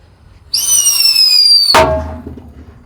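A Whistling Thunder firecracker set off inside a big drum gives a loud, steady high whistle of about a second. One sharp, booming blast follows and rings on inside the drum, with no voices heard.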